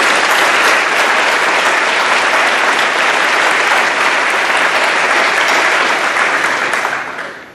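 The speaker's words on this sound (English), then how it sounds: "Let's give the governor another round of applause." Loud, sustained applause from a luncheon audience for Georgia Governor Nathan Deal at a South Georgia chamber event, dense steady clapping that fades out at the end.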